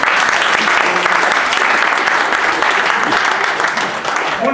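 A live audience at a class gathering claps in a sustained, dense round of applause that holds steady for several seconds before easing slightly at the end.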